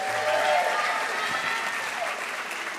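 Sustained applause from an audience at a school district employee recognition celebration honoring years of service, a steady dense clapping wash throughout with a faint voice briefly audible near the start.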